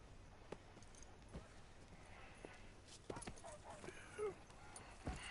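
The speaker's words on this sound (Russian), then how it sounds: "О, лошадь у меня появилась." Horse hooves clip-clop at a walk in Red Dead Redemption 2, faint and irregular, under low background sounds with a few louder thumps near the end.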